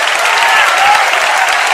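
A church congregation claps together in a loud, steady wash of applause, dense and continuous with no pauses, filling the room without any talk over it.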